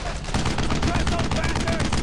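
Gunfire from the World War II video game Brothers in Arms: Road to Hill 30, heard as a dense, unbroken barrage of loud rapid shots and bursts filling the whole stretch, close and intense, with no pause.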